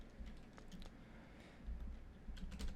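Faint computer keyboard typing at a Linux desktop, a few scattered soft key clicks over a low steady hum, with no talking.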